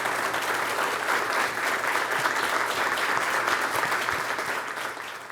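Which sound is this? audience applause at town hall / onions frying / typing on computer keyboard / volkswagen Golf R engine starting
audience applause at town hall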